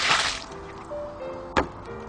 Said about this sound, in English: this water is a little bit dirty, so I'm going to tip it away like this